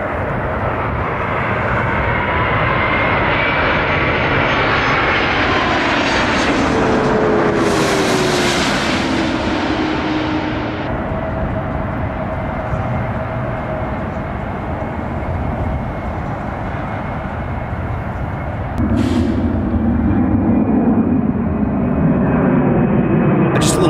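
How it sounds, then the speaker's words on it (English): A Southwest Boeing 737 on approach to LAX, going around, makes a loud, continuous jet roar close by that swells and shifts in pitch, with a brief hiss partway through and a renewed surge of rumble near the end. "The Southwest 737 was coming in on approach, but there was a CRJ-200 that was already on the active on the runway"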